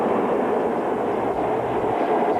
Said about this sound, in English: the rumble and lights of an oncoming train grew louder and brighter